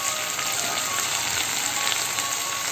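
Mushroom sabji with tomato and spices frying in a pan, a steady, fairly quiet crackling sizzle without pause.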